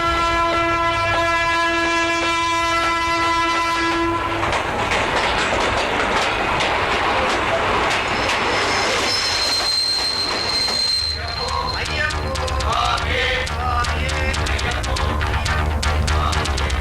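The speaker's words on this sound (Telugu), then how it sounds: "ట్రైన్ వచ్చిందిరా" A train pulls into a station with a loud, sustained horn, then a long roar of rolling carriages, screeching wheels, and rhythmic clickety-clack close by. Speech comes in under the noise.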